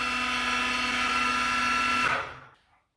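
LMS mini milling machine with a 1 hp servo motor upgrade whining steadily at top spindle speed, a loud sustained tonal hum that then spins down and fades to silence near the end.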